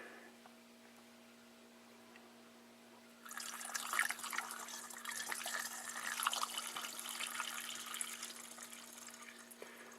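Methoxide poured into oil in a test batch of homemade biodiesel, a steady liquid splashing and trickling that starts abruptly about three seconds in and runs continuously over a constant low hum.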